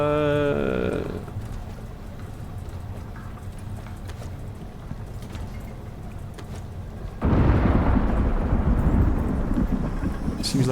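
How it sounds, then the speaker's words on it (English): In a buffalo-breeding survival game set in snow, a dull, wind-laden rumble of an approaching storm churns steadily, then swells into a louder, rougher roar partway through, with no voices over it. "Seems like there's a storm coming."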